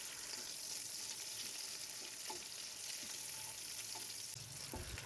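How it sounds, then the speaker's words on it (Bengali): Onion frying in a frying pan, a faint, steady sizzle with occasional light scrapes and taps from stirring, continuing evenly for about five seconds without talk. "এবার এক এক করে ভেজে নেব। প্রথমে আমি পেঁয়াজটা দিয়ে দিলাম।"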